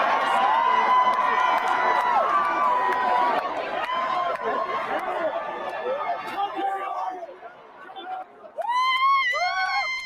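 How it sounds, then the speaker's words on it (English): UNC fans celebrate on Franklin Street after a win over Duke, a wild crowd shouting and chanting in a dense, loud roar, with louder individual yells rising near the end. "From chanting Tar Heels to Duke sucks, the crowd was absolutely wild."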